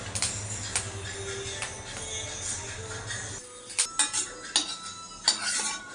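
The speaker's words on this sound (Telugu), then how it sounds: "మిరపకాయలు వేస్తున్నాను." Dried red chillies are dry roasted in a pan for moringa leaf powder, giving a steady low crackle and hiss, then stirring clatter and scraping against the pan nearby.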